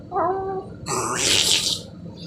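A man imitates a cat, first with a brief whining meow and then a loud, breathy spitting hiss that lasts about a second, close to the listener.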